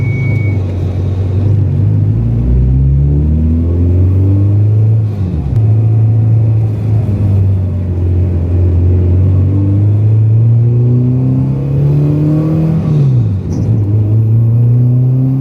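A Honda Integra's B20B VTEC engine revving loud and close, pitch climbing and dropping through several rises and falls, a continuous droning rumble with no voices.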